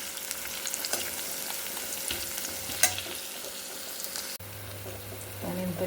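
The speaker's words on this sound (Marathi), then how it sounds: "थोडंसं परतून घ्यायचं आहे लसूण" Garlic and curry leaves sauté in a pan for a summer vegetable dish, giving a steady close frying sizzle with scattered stirring scrapes, and a faint voice appears briefly near the end.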